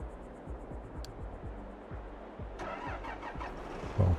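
A combine harvester engine in Farming Simulator 22 runs with a steady, rumbling drone and regular low pulses, close and continuous, with a brief louder thump near the end.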